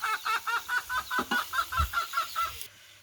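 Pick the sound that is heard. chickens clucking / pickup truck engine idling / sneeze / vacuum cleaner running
chickens clucking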